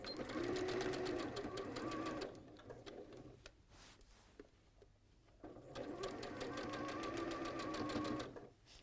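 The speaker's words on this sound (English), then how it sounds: "So I'm just sewing really slowly now across all of these seams." Sewing machine stitching slowly across the seams of a dress, a rapid mechanical clatter of the needle in two runs with a quieter pause between, close and clear.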